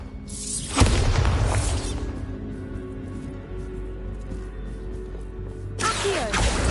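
A Bombarda blasting spell in Hogwarts Legacy lands as a sharp booming explosion with a crashing burst, its rumble trailing off over a low game backdrop before a second whooshing blast rises at the end.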